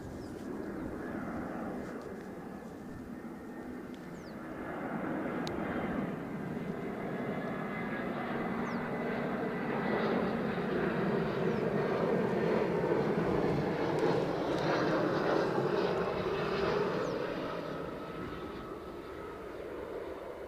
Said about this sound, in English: The inbound EasyJet is going to have to go first